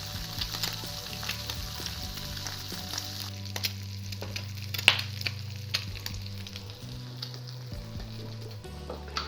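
Steady sizzling and crackling of egg and bacon frying in a pan, with a low hum underneath and a few small clicks of a utensil.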